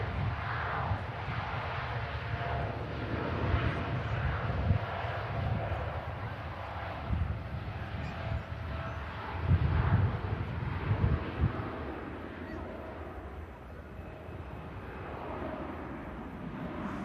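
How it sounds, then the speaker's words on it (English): Boeing 787 Dreamliner engines spooling up for departure, heard as a distant, steady low rumble and roar mixed with wind buffeting on the microphone, swelling somewhat midway. "Dreamliner on the spool up to Melbourne in the US."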